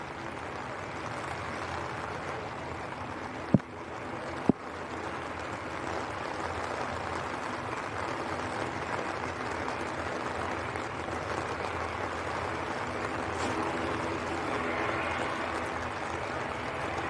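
Strong wind batters a plane spotters' tent at Manchester Airport, a continuous loud rushing roar with fabric flapping and two sharp knocks early on, steady throughout with no talk.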